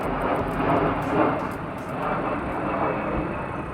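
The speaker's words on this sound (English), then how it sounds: "That must be one of those firefighting jets. It's really low." A low-flying firefighting jet aircraft roars overhead in a steady, loud broadband rumble lasting the whole moment, with no other sound standing out.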